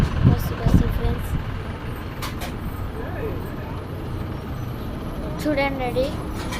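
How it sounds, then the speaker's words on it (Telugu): A bus working up a winding ghat road near a hill temple gives a rumbling engine with a brief air-brake hiss. A person talks over it. "Bus friends."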